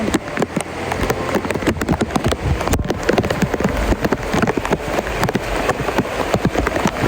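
Heavy rain pours down hard, a dense, loud patter of drops striking surfaces, with no one speaking.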